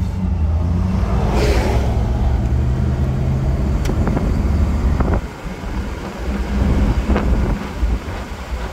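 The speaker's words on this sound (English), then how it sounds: "let's run her through the gears and see how she rides down the road" A 1966 Ford Mustang convertible, all original, drives down the road, its steady engine rumble and road noise buffeted by heavy wind across the microphone, with a brief dip midway as it moves through the gears.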